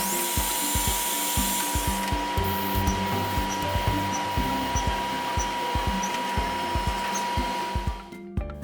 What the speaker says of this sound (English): The micro-adjust screw shaft is turned out of brass as well.